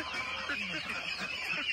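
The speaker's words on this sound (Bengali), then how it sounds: "এই যে দেশি মুরগি।" Native village chickens vocalise nearby, their soft clucks and calls carrying over steady outdoor background noise, with no talk in this moment.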